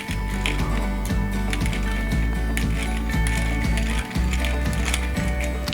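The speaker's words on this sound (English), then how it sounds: "I'm using this beautiful pepper mill from Olsen Fine Woodworking in Vancouver, BC" A wooden pepper mill from Olsen Fine Woodworking grinds black pepper, giving a loud, close, continuous ratcheting crunch of repeated rapid clicks with a short break near the end.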